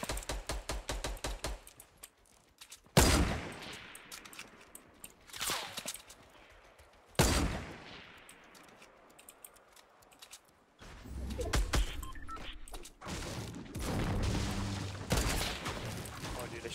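Gunfire in a squad battle video game, with several sharp loud shot bursts spaced a few seconds apart, then a denser stretch of rapid firing and mixed game noise toward the end.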